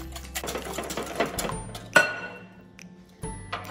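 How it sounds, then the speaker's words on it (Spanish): An electric mixer whirs as it beats egg with sweetener for passion fruit cookies made for diabetics and celiacs, a close buzzing run with a few clinks against the bowl and a brief pause. "lo batimos hasta que veamos que el endulzante desaparezca y el huevo quede batido"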